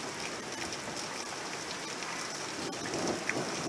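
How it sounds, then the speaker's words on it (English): Hail and heavy rain batter a back window during a storm, producing a dense, steady drumming with scattered sharper impacts. "I hear hail. It's hitting the back window."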